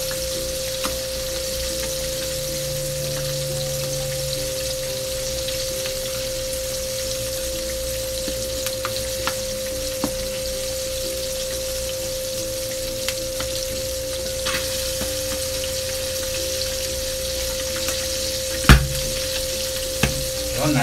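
Calamari fry in hot oil with a continuous loud sizzle, broken by scattered sharp pops and one louder crackle near the end, with no talking.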